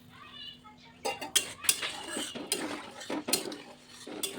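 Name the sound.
stirring fish curry spices in a pan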